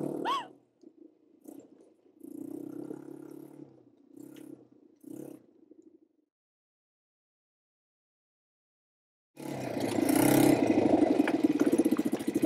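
A motorcycle engine comes in loudly after quiet voices and a silent gap. It sits close, rumbling as the throttle is gently pushed and held near the end.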